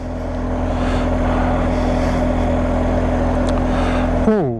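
A motorcycle setting off after refuelling gives a steady, loud, close engine drone, and near the end the pitch rises as it accelerates away.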